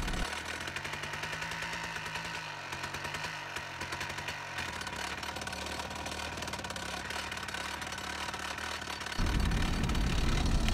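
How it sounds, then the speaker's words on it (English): A small 25 kg drilling machine works rock at an aquamarine mine in the mountains of Pakistan, giving a continuous loud rapid hammering chatter with an engine drone that turns harsher and louder near the end. "It is a small machine. Drilling machine is very small."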